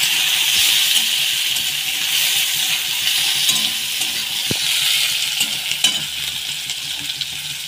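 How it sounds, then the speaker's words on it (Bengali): Chopped onion frying in oil with bay leaf, dried red chilli and black cumin, giving a steady, loud hiss of sizzling with a few faint stirring knocks, no voices. "এবার পেঁয়াজ কুচি দিয়ে দেবো।"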